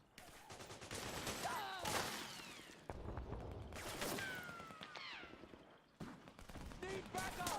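Gunfire in the video game Metal Gear Solid 4, with repeated bursts of automatic fire and scattered shots in rapid succession, moderately loud, with short gaps and a sudden break between volleys.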